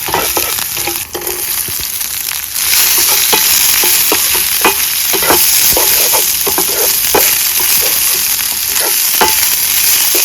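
Green chilli and onion fry loudly in a pan at a night camp, a constant close sizzle broken by frequent stirring scrapes and clinks, with no talking.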